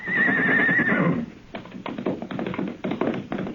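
A horse gives one loud, shrill whinny, followed by a quick patter of hoofbeats close by, in a 1955 Rin Tin Tin radio western drama.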